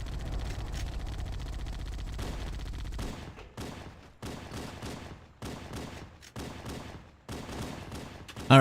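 Video game gunfire, first a dense continuous burst of automatic fire, then a string of separate sharp shots and short bursts with brief gaps, ending in a loud hit.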